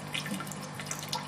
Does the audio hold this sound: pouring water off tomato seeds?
yes